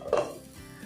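A single metal clank as a lid is set onto a cooking pan of carrot and cabbage thoran on low flame, close and brief, followed by a faint ring and quiet kitchen background.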